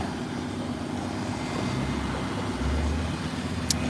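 A bus pulls up and stops nearby on a loud street, its deep engine rumble droning steadily and swelling slightly toward the end, with no talk.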